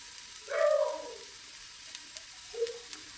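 Cumin seeds dropped into a hot pan give a short burst of sizzling, then fade, with a second brief sizzle near the end, close and alone without talk.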